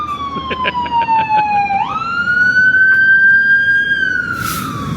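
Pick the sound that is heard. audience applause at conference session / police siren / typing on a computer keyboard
police siren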